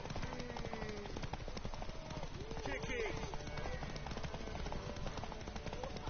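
Horse hooves clip-clop steadily during a horse race in The Witcher 3, set under a dense bed of game music and ambience, with a voice speaking briefly over it.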